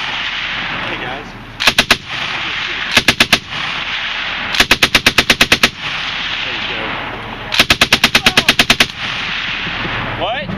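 A belt-fed machine gun at the ProAm 2012 shooting event fires four loud, rapid bursts of varying length, each a tight string of sharp reports, with brief pauses of quiet outdoor ambience between them.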